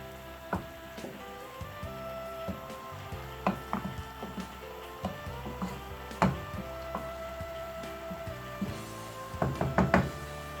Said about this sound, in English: make sure you mix everything together so that they will incorporate